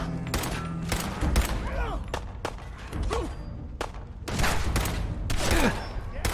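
Turret gunfire in the Fallout 4 video game: a series of sharp, loud shots in irregular bursts across the scene, mixed with whooshing impacts and game noise, and a voice talking intermittently.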